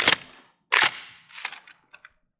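Gunshots at a testing range in the video game Escape from Tarkov: two sharp loud reports, then fainter clicks and rattles as the shots fade.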